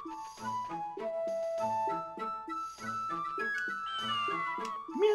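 Game music with chiming notes and repeated cat-like meows in the video game Breath of Fire 4, steady and clear with no talking.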